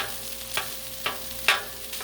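Chicken fried rice and vegetables sizzle steadily on a Blackstone griddle while a spatula strikes and scrapes the surface about four times at an even pace, close and clear.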